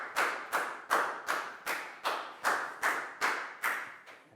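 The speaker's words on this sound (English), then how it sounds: "High five and a big round of applause for Chu" A classroom gives a student a round of applause as about ten evenly spaced, unison claps ring out at a steady beat, close and moderately loud, with no talk.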